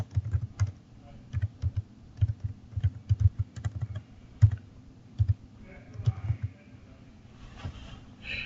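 Someone types on a computer keyboard in quick bursts of clicky keystrokes separated by short pauses, close and fairly quiet, with no talking.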